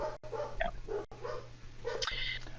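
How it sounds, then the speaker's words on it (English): Several dogs barking and yipping in a home, short repeated high barks with whimpering, fairly close, overlapping with a person talking. "I'm sorry if you can hear my dogs barking in the background"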